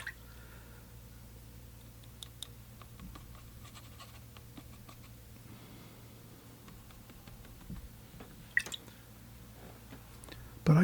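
Soft wet dabs and light splashes of a watercolor brush on paper, scattered irregular taps and squishes, quiet and close, with a faint low hum underneath and a few louder dabs near the end.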